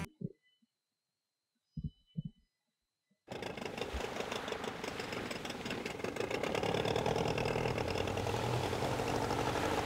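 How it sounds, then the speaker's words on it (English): A small boat engine in a video game starts up after a few short knocks and then drones steadily and loudly, a buzzy, revving motor that runs on without pause. "What engine you got in that boat? A 125? It sounds like my motorbike."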